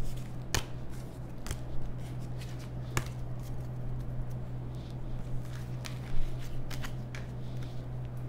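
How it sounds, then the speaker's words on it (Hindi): Tarot cards are gathered up and handled on a surface, giving a few sharp papery snaps and light rustles spaced through a quiet stretch over a steady low electrical hum. "let me pick all these cards जल्दी से"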